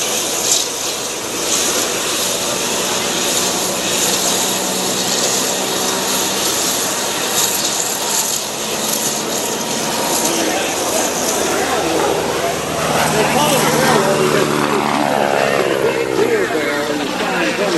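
T-6 propeller aircraft rolling through aerobatics at a CAF airshow, a loud sustained engine drone with a sweeping pitch shift late on as it passes, while an announcer talks over it.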